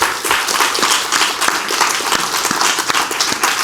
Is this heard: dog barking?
no